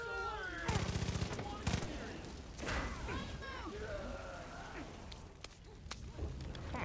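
Gunfire in the video game Far Cry 5, with short bursts of rapid shots and single cracks over game music and a speaking voice.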